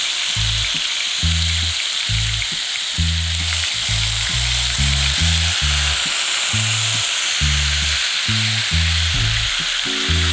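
Strong black coffee poured into hot pan drippings to make redeye gravy, giving a loud, continuous sizzle and hiss over a steady low tonal hum, with no talk.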